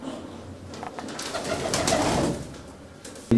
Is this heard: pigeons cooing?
yes